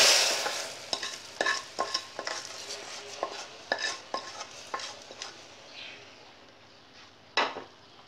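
Roasted vermicelli is stirred into boiling milk for semiya payasam, a spoon scraping and knocking against the pot in repeated close strokes over a bubbling simmer, the strokes thinning out toward the end.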